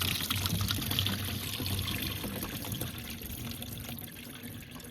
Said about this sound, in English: James is just taking the bottom pipe off now, and then most of the coolant should come out and splash me quite nicely in the face.